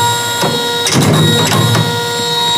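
A Usha 450E or 550 embroidery machine runs loudly and close while stitching a design, giving a steady mechanical whir with rhythmic motor and needle bursts and no talking.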